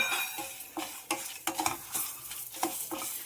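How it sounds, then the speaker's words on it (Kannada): Curry leaves drop into hot oil for a brinjal capsicum gojju, crackling and sizzling close up in short repeated bursts as the pan is stirred. "ಕರಿಬೇವು ಹಾಕ್ತೀನಿ."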